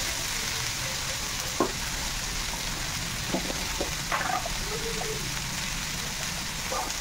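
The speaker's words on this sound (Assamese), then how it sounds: "আৰু কচুখিনি অকণমান দেৰিকৈ এড কৰি দিম। এইখিনি কিছুমান ভাজি লওঁ।" Taro pieces and vegetables fry in oil in a pan with a steady, close sizzle throughout, broken by a few soft stirring scrapes and clinks.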